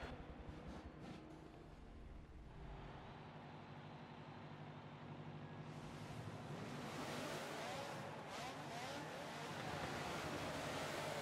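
Race cars launching into the start of a Daytona race in Forza, a field of GT and Indy-style cars roaring together, the engine noise swelling from a steady drone into a loud, dense wall of sound.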